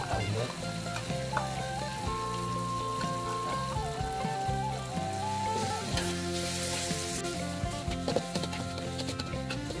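Red chili and garlic paste, freshly ground, dropped into hot oil for sambal, giving a steady crackling sizzle beneath prominent background music.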